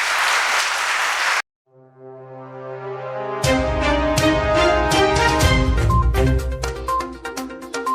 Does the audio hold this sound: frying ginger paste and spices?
no